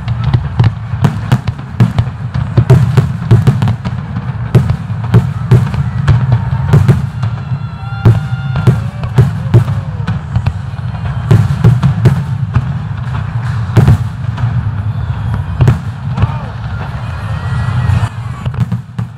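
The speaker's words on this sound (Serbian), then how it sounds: "E svakidašnja topla noć u Budvi ulepšana je spektakularnim šestominutnim vatrometom" A six-minute New Year fireworks display bursts over Budva, Montenegro, on a warm night, with dense sharp cracks and booms in irregular bursts over a deep continuous rumble, loud and close, with faint crowd noise beneath.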